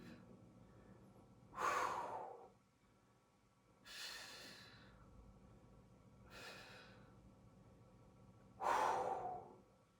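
Four slow, deep breaths during a Pilates workout, each a long airy exhale or sigh spaced a couple of seconds apart, close and fairly soft against quiet room noise.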